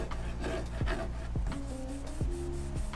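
A hand rubbing across sanded Bondo filler on a BMW E36 M3 body panel, a soft close rasping friction in short repeated strokes, with faint tonal squeaks and a steady low background hum.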